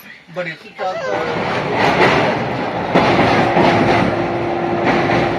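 A train rolls past nearby with a steady rumbling clatter, after a few brief voices at the start, and a thin whine rising over it midway.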